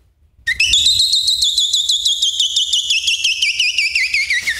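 A performer on a comedy stage show vocally imitates an electronic calling bell with a high, steady warbling trill. It starts suddenly, stays loud for several seconds and pulses rapidly, with no other sound.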